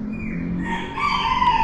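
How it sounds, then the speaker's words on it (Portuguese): A rooster crows inside a residential condominium, one loud drawn-out call with a rising then sustained tone, close by and heard alone. "O galo cantou."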